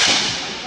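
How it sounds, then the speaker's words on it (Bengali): A single loud, sharp crack from a rubber bullet gunshot during street unrest, close by, with a brief fading tail. "গুলি শব্দ পাইছেন"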